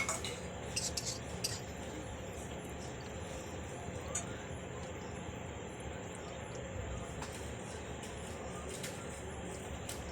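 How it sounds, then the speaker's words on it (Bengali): Frying onion is stirred in a pan with a metal utensil, producing scattered clinks and scrapes against the pan over a low, steady background hum. "পেঁয়াজটা আবারও নাড়ালাম।"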